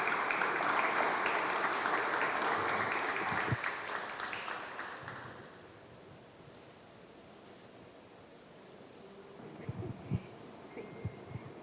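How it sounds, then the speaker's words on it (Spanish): Audience applause welcoming two researchers at an exhibition opening, a loud dense round of clapping that fades out after about five seconds into quiet room noise, with a few soft knocks near the end. "recibamos a esta pareja de investigadores con fuertes aplausos"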